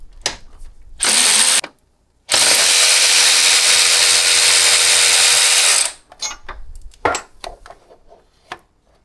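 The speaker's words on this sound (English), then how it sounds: "Bolts, I'm using a 1/2-inch socket, and that'll allow us to get to the lower." A power tool spins a 1/2-inch socket on crash bar bolts of a Harley-Davidson Pan America motorcycle, with a short whirring burst followed by a long, loud, steady run and then clattering metal handling.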